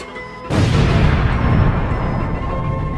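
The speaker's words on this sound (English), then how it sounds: "With a fiery explosion, the Hydra's front head and neck was shattered apart into thousands of little pieces" In an audio drama, a sudden loud explosion blast erupts and rolls into a sustained, deep rumbling roar with crackling debris, following a brief quieter lead-in.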